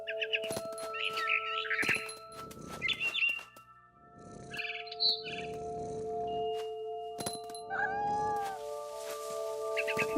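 A scared cat meows and yowls repeatedly in high, wavering cries, mixed with bird-like chirps and sharp clicks, close and fairly loud throughout.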